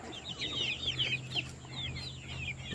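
Bantam and Polish chickens cluck and chatter softly in a chicken yard, with a few high calls rising over a steady low background hum.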